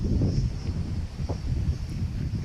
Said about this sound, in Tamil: இங்கே பாருங்க, காற்றோட சவுண்டு வேறு லெவலாக இருக்கும்.